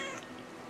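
A cat meows once in the video game Brothers: A Tale of Two Sons, a short, clear, close mew that trails off quickly, heard alone without talk.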